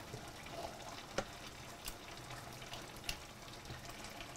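Pondu, a cassava-leaf stew, being stirred in a pot as liquid is poured in, a soft low bubbling sizzle with occasional spoon taps and a faint watery trickle, quiet throughout.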